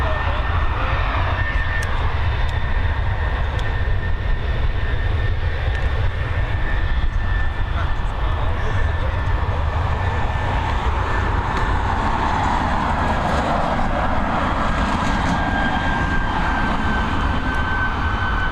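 An American Airlines jet arriving from Chicago at Dublin Airport produces a continuous, loud engine roar with a whining tone that slowly drops in pitch as the plane comes in.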